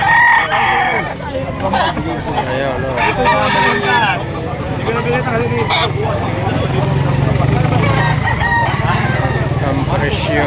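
Chickens at a poultry market in Lipa, Batangas, clucking and a rooster crowing repeatedly, busy and close, with people talking throughout.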